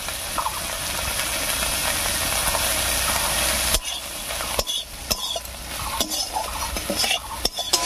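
Prawn heads frying in a pan, a constant close sizzle with a spatula scraping and clattering against the metal in irregular strokes, the hiss thinning after a few seconds as stirring continues.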